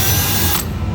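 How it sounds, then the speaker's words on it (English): A Milwaukee power drill bores holes into a Skee-Ball machine cabinet, a loud, dense whirring grind that cuts off abruptly about halfway through, leaving a rattling tail. "I'm going to wait till after I drill them to mark the other 2"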